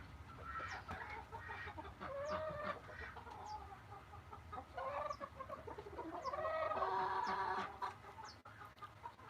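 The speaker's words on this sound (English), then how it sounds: "Chickens." Several chickens cluck and murmur close by, with overlapping soft calls and occasional sharper squawks over a low background hum.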